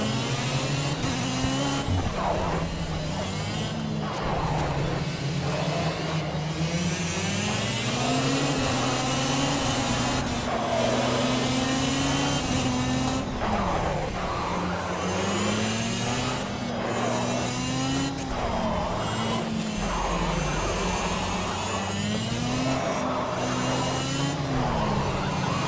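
Go-kart engines race in the video game Project Cars, a steady loud whine that rises and falls in pitch through the whole stretch, with scraping and bumping contact noises over it.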